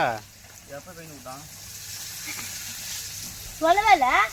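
Pomfret (vavval) fish frying in a pan in a village kitchen; a continuous hissing sizzle sits under people talking nearby, with voices loudest at the start and end.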